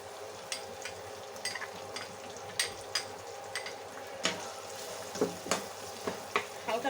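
Chopped onion fries in a pan for a spicy eggplant dish, giving a soft, steady sizzle punctuated by repeated light clinks and scrapes of a stirring spoon, with no voices.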